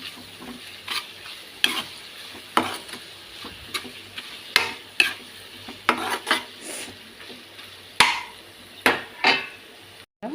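Onions fry for a Telangana-style small fish curry while a spatula scrapes and clacks against the pan in irregular strokes over a soft background sizzle, close up and without speech.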